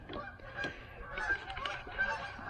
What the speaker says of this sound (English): More freaking geese.